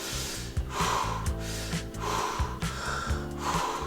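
Slow, deliberate belly breathing demonstrated up close, with several full inhale-exhale cycles of airy, rushing breath repeating at a steady rhythm and no talking.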